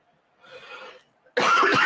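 A man clears his throat, first with a soft, low rasp and then a short, loud harsh burst close to the microphone. It could be dust irritating his throat.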